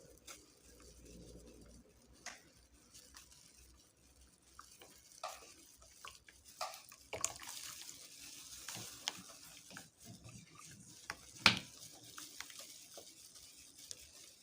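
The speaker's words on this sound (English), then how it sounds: "So I'll keep adding water" Water is worked into a warm, thickening homemade liquid soap made from oil and lye, heard as close scraping, stirring and soft splashing from a spatula in a pot, with scattered sharper clicks and no talking.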